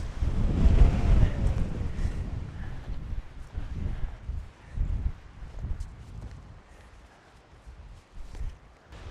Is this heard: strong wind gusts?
yes